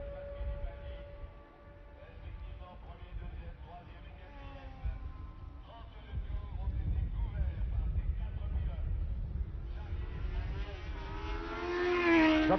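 A 1975 Formula 1 race car at the French Grand Prix passes the commentary position, its engine rising from a distant drone to a louder, nearer howl at the end, under continuous French-language commentary.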